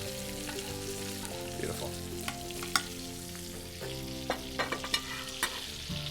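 Duck breast basting in a hot pan, a constant soft sizzle with spoon clinks and scraping as fat is ladled over, a person briefly speaking over it.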